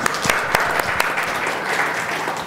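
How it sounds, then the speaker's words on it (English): A conference audience at a fintech panel session applauds in a short burst of dense, even clapping with a few sharper near claps standing out. "a huge round of applause to the panel"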